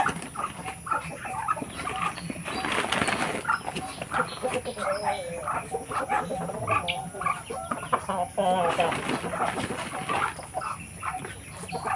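Chickens squabble and cluck on a provincial egg farm, a busy flock of overlapping calls close by, with someone talking intermittently over them throughout.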